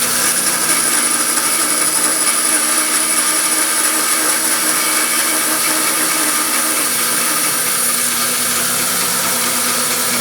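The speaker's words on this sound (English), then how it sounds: "I can flip this around and cut this coming in from the other side." A band saw cuts wooden dovetails with a steady, loud, continuous whir and rasp that holds unchanged for about ten seconds, with no talking.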